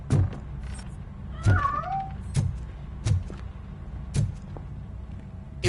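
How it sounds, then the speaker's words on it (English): A cat hiding inside a piano gives one clear, rising meow among a series of muffled, evenly spaced thumps and knocks, heard fairly close and fairly quiet. "That cat must be hiding inside."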